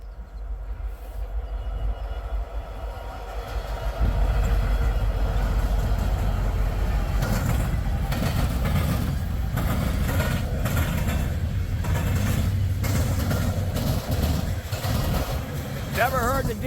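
A Norfolk Southern westbound freight train passes close by a derailment site, a loud continuous rumble and rattle of rail cars with wheel clatter building after a few seconds and holding steady, with someone talking briefly.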